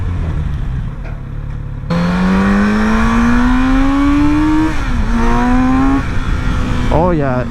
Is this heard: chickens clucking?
no